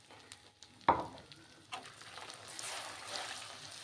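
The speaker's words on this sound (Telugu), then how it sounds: "ఎర్రగా వచ్చేదాకా కూడా మనం వేపుకోవాలి దీన్ని ఈ అల్లం వెల్లుల్లి పేస్ట్ అండి" Ginger garlic paste frying in a pan: a sharp knock, then a close hiss of sizzling that builds and spreads into a steady, moderately loud fry with no voices.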